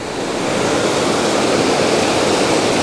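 Eas Fors waterfall roars in a steady, loud, dense rush of falling water, close by and unbroken, with no voices.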